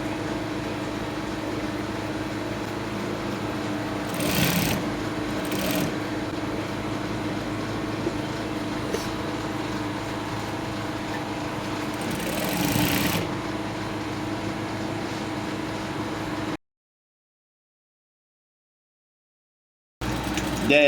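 A sewing machine stitches crop top fabric with a steady mechanical hum, swelling briefly twice and then falling silent before a short restart at the end.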